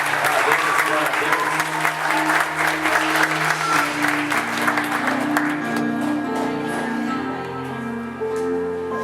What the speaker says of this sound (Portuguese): Pode bater palmas para Juliana.